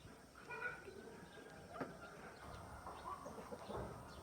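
Chickens cluck around a rural Nepali home, faint scattered calls over a steady rustling background with no talk.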